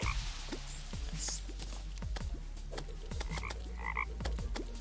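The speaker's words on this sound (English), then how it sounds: "These toads remind me of the lurker toads from Jack and Daxter" Toads in the Terraria Calamity game croak repeatedly in short, downward-sweeping calls at an irregular rhythm, loud and close, over a steady low ambient hum with scattered higher chirps and no talking.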